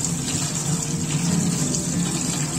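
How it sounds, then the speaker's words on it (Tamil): Small spinach greens are washed in water, giving a steady, close rush of running, splashing water that holds unbroken throughout. "சுத்தமாக மண் இல்லாத ஒரு 2-3 டைம் நல்லா கழுவி எடுத்துக்கோங்க"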